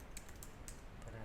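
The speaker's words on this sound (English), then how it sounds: "So you type in your email" An email address is being typed on a computer keyboard: a short flurry of light, quick key clicks in a quiet room, with faint background murmur.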